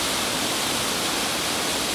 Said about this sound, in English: Now there's the waterfall.